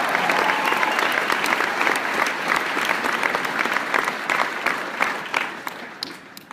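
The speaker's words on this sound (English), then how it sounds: "you're supposed to clap for yourself" A large audience at a Magic Johnson speaking event applauds continuously, a dense wash of clapping that holds steady throughout and thins slightly near the end.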